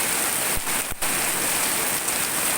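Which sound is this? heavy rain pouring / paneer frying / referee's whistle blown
heavy rain pouring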